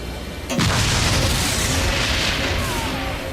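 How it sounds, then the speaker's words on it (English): A huge blast erupts in the video game Agents of Mayhem, a sudden deep boom that swells into a sustained roaring rumble of explosions, loud and close. "Ah! Explosions!"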